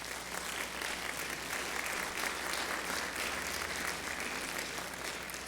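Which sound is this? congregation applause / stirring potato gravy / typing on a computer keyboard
congregation applause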